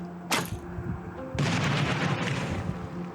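A grenade explodes in the Last Day on Earth: Survival mobile game. A sharp, loud blast is followed about a second later by a second heavy boom that rumbles on to the end, with no talking.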